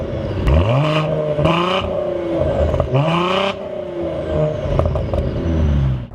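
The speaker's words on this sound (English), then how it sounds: "This isn't a bad sounding engine by any means." A 2017 Cadillac ATS-V turbocharged six-cylinder engine revs loudly and close up, rising and falling in several repeated sweeping pulls with no one talking.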